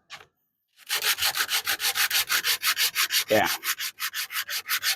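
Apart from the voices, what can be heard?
sanding wood with sandpaper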